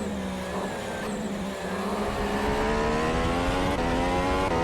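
A race car in a racing video game accelerates around the Mexico track, its engine loud and close, with a steadily rising whine and rough harmonic drone that climbs in pitch through several gear pulls.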